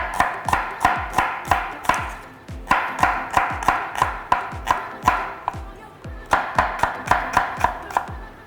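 Shallots being chopped with a knife on a cutting board in a kitchen, a loud, close series of sharp rhythmic knocks in quick bursts with short pauses between runs.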